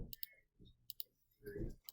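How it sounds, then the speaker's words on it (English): Several quick plastic clicks from keys being pressed on a calculator keypad, arriving in small uneven bursts, close and quiet. "let's go ahead and type this into our calculator"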